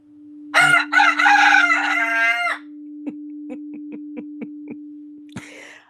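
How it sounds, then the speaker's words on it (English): A rooster crows loudly and close by in one long harmonic call, followed by a run of short, soft clucks from the bird over a steady low hum, with a faint rustle at the end. "Even if you take the bird song with you."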